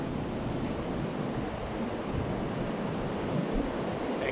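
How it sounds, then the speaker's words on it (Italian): Strong wind roaring steadily, a broad rushing noise that buffets the microphone in low gusts, with no voices. "Sentite il vento come soffia oggi."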